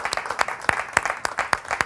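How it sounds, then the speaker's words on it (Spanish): Rhythmic clapping on a television studio show for a winner, sharp claps landing in a regular beat, several hands together, close and moderately loud, with no talk over them. "este aplauso para Mariana Fabiani"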